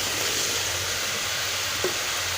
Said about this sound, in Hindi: इसको हमने अच्छी तरह से भून लेना है।